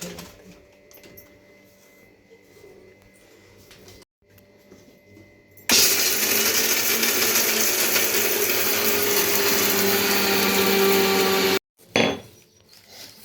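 An electric mixer grinder whirs loudly for several seconds, blending cashews, almonds and poppy seeds, after quieter handling noises, then cuts off abruptly before a brief restart.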